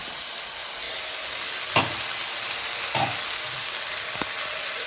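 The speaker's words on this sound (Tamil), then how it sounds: "இப்போ இஞ்சி பூண்டு வெங்காயம் ஆட்டி வச்சது இது போட்டுக்கலாங்க" Freshly ground ginger, garlic and onion paste sautéing in a pan for prawn gravy, a steady soft sizzle with a few sharp stirring knocks, no talk.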